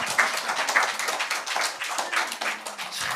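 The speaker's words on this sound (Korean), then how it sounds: "박수 한번 해주셔요." Audience clapping at a Korean marriage seminar lecture, a lively mix of many hands with some distinct nearby claps, steady and fairly loud for about three seconds.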